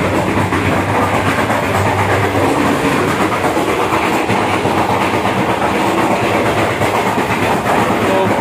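Steady loud rumble inside a moving passenger train carriage, with continuous wheel and rail clatter and rattling throughout, heard from within the coach without speech.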